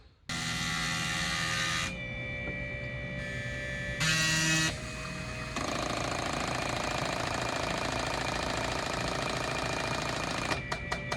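Fuel injectors cycled on a test bench at a motorsports shop, run at different RPMs and pulse widths: a loud, steady mechanical buzzing chatter that shifts in pitch and intensity across several distinct stretches, ending with a few sharp clicks.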